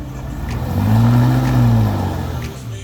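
A 4x4 on KO2 tyres climbing a rocky high-country track, its engine revving steadily up and then easing off, close and loud against outdoor wind noise.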